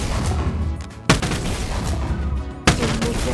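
Sci-fi shotgun in Bonelab fired twice about a second and a half apart, each a sharp loud blast over a continuous rumbling game background, no talking.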